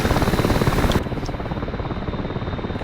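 AH-6J Little Bird helicopter in DCS World, video game: a steady rotor chop and engine whine, loud and close, continuous with no voices.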